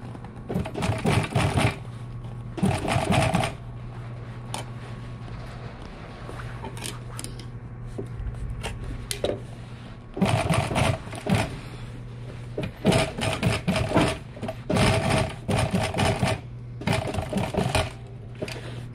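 Sewing machine stitching around the edge of a truck seat's upholstery, heard in several loud bursts of running stitches separated by pauses, with a steady low hum beneath.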